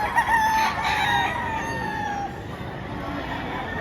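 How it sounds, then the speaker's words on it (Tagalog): Many chickens and roosters at a Batangas poultry market fill the air with overlapping crowing and clucking, a dense, steady chorus of birds close by with no talk over it. "Pero napakaraming manok."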